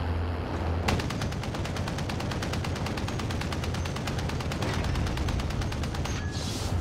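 Sustained automatic gunfire from the video game Armored Royal, a rapid even stream of loud shots beginning after a brief quiet moment and running for several seconds before cutting off abruptly.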